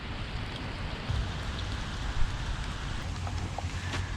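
Steady rain falls outdoors in Innsbruck, a dense close patter on surfaces with scattered louder drops and no talking.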